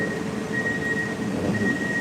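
Warsaw metro train running steadily, a loud continuous rumble with a thin high whine held throughout, no voices.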